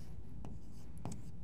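Handwriting on a classroom board: two quick stroke sounds, short and close, over a steady low background hum.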